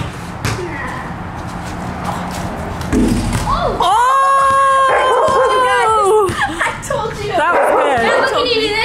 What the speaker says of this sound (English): Maddie, what are you barking about?